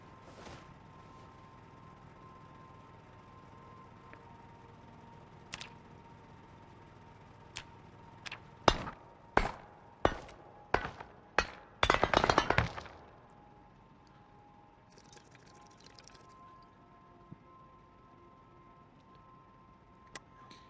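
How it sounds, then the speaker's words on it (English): Stones are broken and chiseled into blocks while sitting on the floor in Project Zomboid, heard as a run of sharp, evenly spaced cracking strikes followed by a short burst of crumbling rubble over quiet background hum. "Sit on the floor here and break open these stones and then chisel them into stone blocks."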